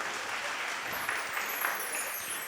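Audience applause fills Kozhikode Town Hall at a Mappila song concert, a steady even wash of many hands clapping at moderate distance, with a faint voice underneath.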